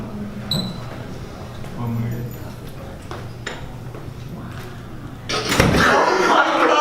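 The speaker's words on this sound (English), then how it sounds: "Close a door." A door is pushed shut, landing as a single firm slam near the end, after a stretch of quiet room tone with a few faint knocks.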